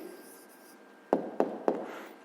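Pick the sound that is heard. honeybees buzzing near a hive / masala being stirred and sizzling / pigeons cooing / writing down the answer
writing down the answer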